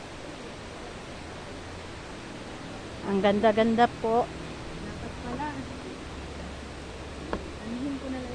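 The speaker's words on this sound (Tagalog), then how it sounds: "Ayan po yung tubig po, oh." Water flows steadily at Magbais, a constant broadband rush like a small waterfall or stream, with a voice briefly speaking over it.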